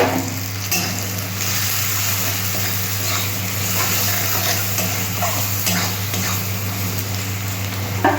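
Onion frying in oil for a catfish curry, a steady loud sizzle with faint stirring scrapes over a low constant hum, close and continuous.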